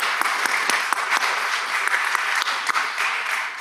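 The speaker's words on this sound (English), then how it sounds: "give them a warm welcome and applause" Applause in the Mississippi Senate chamber, a steady wash of many hands clapping, fairly loud and continuous throughout with no speech.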